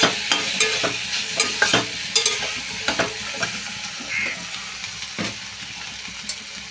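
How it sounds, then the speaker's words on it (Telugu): Half a spoon of turmeric fries in a pan for a sour mango curry, with steady soft sizzling under repeated close scrapes and stirring clicks of a spoon against the pan. "ఒక హాఫ్ స్పూను పసుపు వేసి మళ్ళీ ఫ్రై చేసుకుందాం"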